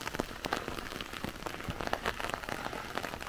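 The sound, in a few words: rain falling in a mountain village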